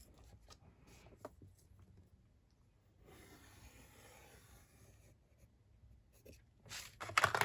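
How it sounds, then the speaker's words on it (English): Pen drawing a line across paper while making a gusseted envelope pocket for a journal, a soft, quiet scratching stroke that is close and faint, with a louder rustle of paper at the end. "Okay, so I'm gonna draw from here to here."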